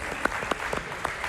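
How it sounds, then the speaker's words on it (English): A small audience claps briefly in a room, a short run of scattered hand claps, fairly faint. "Can we just give them a round of applause, please?"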